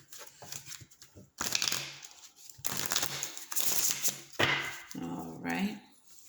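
Deck of tarot cards being shuffled by hand in several bursts of riffling and crisp card slaps, close and fairly quiet, with short pauses between.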